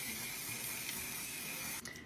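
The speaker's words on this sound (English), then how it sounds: "Hit it with your One Size Until Dawn spray." A setting spray, One Size Until Dawn, misted onto a face during makeup, giving a steady close hiss that runs evenly for about two seconds before cutting off.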